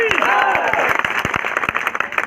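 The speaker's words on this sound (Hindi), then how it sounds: "मुझे तो उन्नाव की ताली चाहिए" Crowd applause at a political rally stage in Unnao, a dense wash of clapping with sharp individual claps standing out, mixed with cheering voices and a tonal shout sweeping through the first second.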